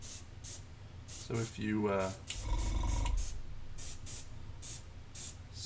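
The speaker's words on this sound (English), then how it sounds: "spray a mid-tone over the top" Spray paint hissing out in a mid-tone layer over a high-contrast blend, a run of short bursts and one longer sustained spray, with a voice talking over parts of it.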